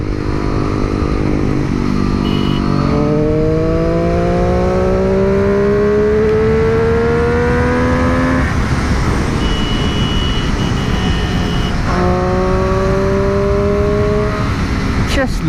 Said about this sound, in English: Just listen to that bike.